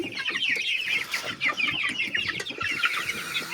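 Fighting rooster of a champion breed clucking repeatedly in quick, busy bursts, fairly close, with steady farmyard bustle behind and no talk.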